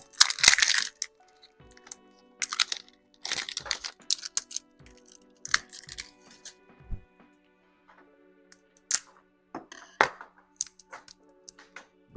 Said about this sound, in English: start tearing that plastic off